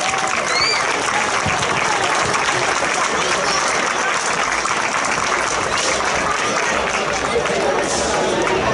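A crowd claps loudly and steadily for the town mayor on stage at the opening of the village fiesta. The dense applause continues unbroken throughout, with murmured chatter and scattered cheering underneath.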